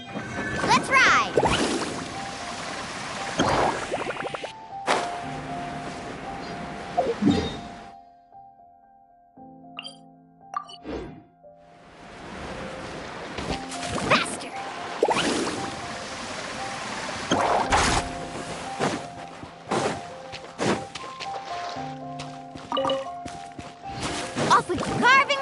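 Surfboard carving across ocean waves in Genshin Impact, with rushing water splashes and whooshes surging and fading in bursts, a quieter lull midway, and voices calling out over the watery roar.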